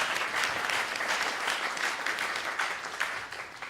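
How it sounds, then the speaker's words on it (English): An audience at an energy fellowship technical forum applauds its presenters of the day, dense sustained clapping from a sizeable crowd that stays loud and then tapers slightly near the end. "let's give a huge round of applause to all of our presenters of the day"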